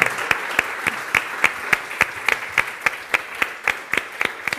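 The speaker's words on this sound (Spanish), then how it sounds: "Un fuerte aplauso para Ana Molina Carballo." An audience at a talk on women, body size and sport claps for a speaker, a moderate round of distinct, fairly sparse handclaps that keeps a steady pace.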